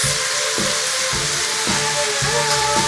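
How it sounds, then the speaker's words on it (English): Steady loud sizzling hiss of food frying in a pan, with faint rhythmic scraping or clicks recurring every half second. "it is a sizzling up in here"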